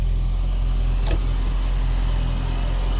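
A 1978 Volvo 240 DL estate with automatic gearbox idles quietly with a little choke on, a steady low hum close by with no talking over it.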